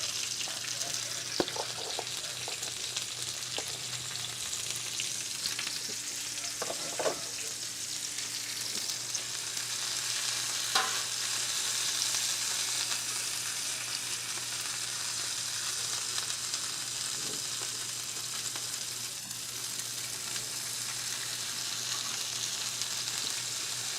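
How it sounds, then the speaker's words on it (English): Vegetables for a Philly cheesesteak sausage dish sauté in oil on a Blackstone griddle over low to medium heat, a continuous moderate sizzle with scattered spatula clicks and scrapes. "Put a little oil in there to saute these vegetables up first."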